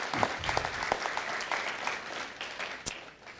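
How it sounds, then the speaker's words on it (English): Audience at a city council meeting applauding, a burst of many hands clapping at moderate level that thins toward the end, with a few louder individual claps standing out. "Give him a nice round of applause."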